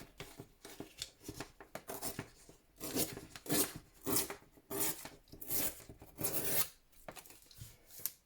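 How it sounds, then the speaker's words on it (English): Scissors snip through paper while making a journal, a series of quiet close crisp cuts and rasps, irregular and alone with no talk, grouped in bursts. "That bit I will have to cut with the scissors"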